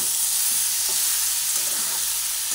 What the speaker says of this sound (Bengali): ভালোভাবে নাড়াচাড়া করে ভেজে নিচ্ছি